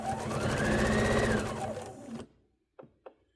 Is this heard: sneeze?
no